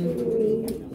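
Pigeons cooing inside a breeding loft in Agramonte, Matanzas, a steady low murmuring coo running through the whole second with no talk over it.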